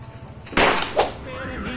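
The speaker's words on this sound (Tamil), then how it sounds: "பட்டாசு பார்த்து பத்திரமா வெடிங்க" A firecracker set off with a homemade electric lighter that heats a wire gives two sharp, close cracks in quick succession, the first louder, against quiet background noise.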